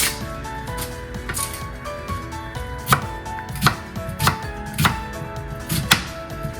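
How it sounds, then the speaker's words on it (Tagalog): A knife peeling and cutting an onion for paksiw na pampano: steady, close chopping taps on a board, with several sharper knocks in the later half, heard over soft background music. "Balatan natin yung sibuyas."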